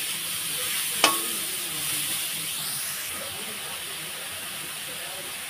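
Pointed gourd and chhana fry in a pan with a steady sizzling hiss throughout. A single sharp clink of a utensil sounds about a second in.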